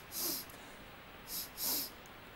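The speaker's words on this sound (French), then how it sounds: "Reniflez à nouveau." A patient sniffs during a larynx examination: three quick, hissy nasal snorts, one alone and then two close together, near and fairly faint against a quiet room.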